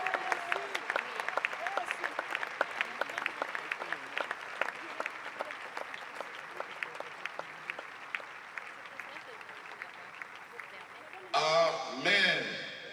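A church congregation applauds in steady rhythmic clapping, a dense crowd sound that carries on at an even level under a speaking voice, with a brief burst of louder sound near the end.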